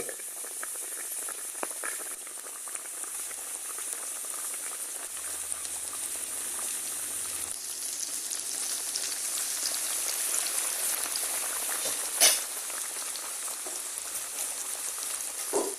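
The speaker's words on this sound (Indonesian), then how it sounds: "Ini kita kotek sedikit ya, biar ini masuk ke penggorengan." Chicken finger strips coated in crispy flour batter sizzle in hot oil in a pan, a steady dense crackle with a few louder pops, no talking.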